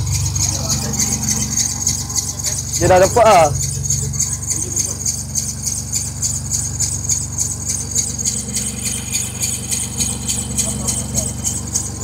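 The Mazda RX-7 engine, which is running rough, drones steadily and close throughout. A brief squealing burst cuts in partway through, and a short spoken remark is heard over it.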